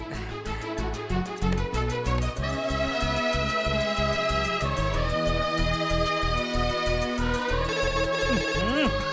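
A mobile phone ringtone plays a loud, repeating melodic tune with a steady pulsing beat, continuing without a break the whole time.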